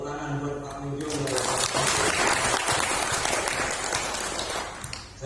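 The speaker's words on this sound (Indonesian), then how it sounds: "tepuk tangan buat Pak Mujiono" An audience at a health equipment distribution training session breaks into applause, following a brief held musical tone at the start; the clapping is loud and dense, swelling and then tapering slightly toward the end.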